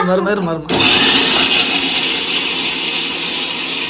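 A voice speaks briefly, then a mixer grinder switches on abruptly and runs with a loud, steady, high-pitched whir.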